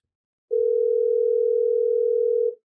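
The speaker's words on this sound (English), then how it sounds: "The phone rings against your ear." A steady telephone ringing tone held against the ear during a call, one unbroken electronic tone lasting about two seconds, clear and close, with no voices.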